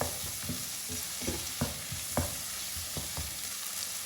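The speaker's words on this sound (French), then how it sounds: "Je mélange bien l'ensemble" Shrimp frying in a pan with a steady sizzle while being stirred, with repeated scraping stirs landing roughly every half second, close and moderately loud, no talking.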